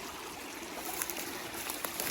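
A creek with mossy rocks flows in a steady, close, broadband rush of water with small trickling accents and no voices.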